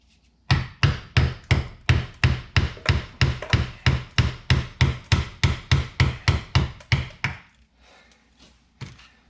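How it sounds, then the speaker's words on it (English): Steady run of about twenty sharp hammer blows drives a screwdriver under the lip of a rear axle seal on a 2005 Mercury Mariner, close and loud in an even rhythm, then stopping before a few faint shuffles. "so what I'm doing right now is just driving it underneath the edge to try to walk that seal out."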